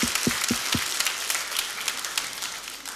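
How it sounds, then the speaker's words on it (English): Community audience at an Operation Christmas Child shoebox event claps, a few sharp nearby claps at the start blending into steady group applause. "give yourselves a clap."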